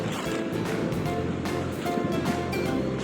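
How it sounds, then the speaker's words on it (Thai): Sea waves break on a Gulf of Thailand beach at Sichon, Nakhon Si Thammarat, a loud continuous surf roar with rhythmic washing surges and some wind noise. "ตรงนี้ก็เป็นทะเลอ่าวไทยนะครับ"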